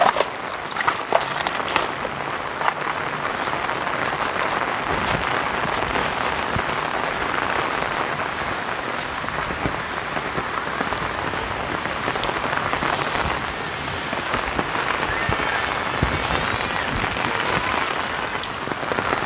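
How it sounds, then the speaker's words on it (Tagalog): Steady rain pours down, a dense hiss of drops pattering on surfaces with occasional heavier splats, loud and continuous. "Yung ulan talaga, hindi natin mapipigilan mga kabayan."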